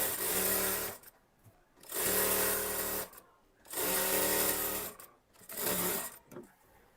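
A sewing machine runs a kurti's side seam in four loud, close bursts of rapid whirring stitching, each lasting about a second, separated by brief pauses, with no talking.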